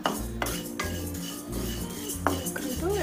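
Flax seeds roasting in a pan for peanut and flax chikki, with repeated scraping and metallic clinks of stirring against the pan in an uneven rhythm, close and moderately loud.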